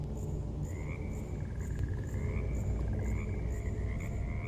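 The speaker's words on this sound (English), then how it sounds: "So there are two frog sounds." A frog croaks in Minecraft, a series of repeated chirping croaks over a dense, steady rumble of ambient background noise.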